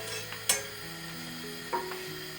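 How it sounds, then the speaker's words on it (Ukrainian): Chopped garlic sizzles gently in a pan for a soup with mushrooms, a soft steady crackle broken by two sharp clinks of a utensil against the pan, close up and quiet. "Висипаємо часничок і підсмажуємо, щоб часничок віддав свій смак."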